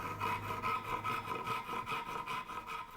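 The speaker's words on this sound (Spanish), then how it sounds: "corta las tablas con el serrucho de lazos o de costilla" A handsaw, a rib-backed woodworking saw, rasps steadily through wooden boards in a carving workshop, with close, continuous rhythmic strokes and no voices.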